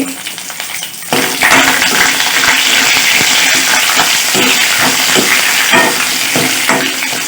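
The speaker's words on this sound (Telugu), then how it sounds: "ఇందులోని కట్ చేసుకున్న నాలుగు పచ్చిమిరపకాయలు వేసుకోండి" Chopped green chillies drop into hot tempering oil with curry leaves, setting off a loud, steady sizzle and crackle that continues close up for several seconds.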